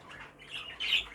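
A caged bird, one of a pair of pied birds, lets out two short harsh squawks at close range, the second louder, with no talk.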